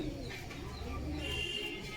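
A red female pigeon with clipped wings coos softly at close range, a faint low murmuring call over light background noise, with no talk.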